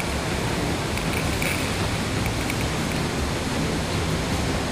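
Pagsanjan Falls pouring inside the Devil's Cave in the Philippines, a continuous loud broadband roar of falling water, close and unbroken.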